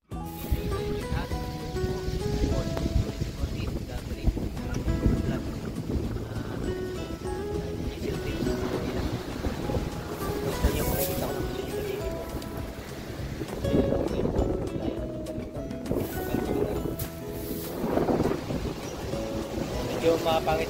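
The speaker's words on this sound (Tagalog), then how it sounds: "Ay ngayon po hindi po makakalma yung hangin, kaya ganito malakas ang hangin." Strong wind gusts across a shingle beach, buffeting the microphone in a loud, continuous rushing roar with surging swells, while someone talks intermittently over it.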